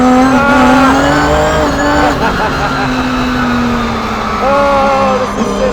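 High-powered car drifting sideways on a race track, tires squealing in long wavering tones over a loud, straining engine roar that holds steady throughout.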